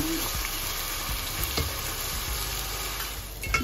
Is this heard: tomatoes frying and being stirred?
yes